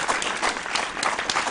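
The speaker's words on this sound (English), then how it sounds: "Round of applause." Steady applause from a crowd at a school quiz competition, many hands clapping continuously at a moderate level with no talking.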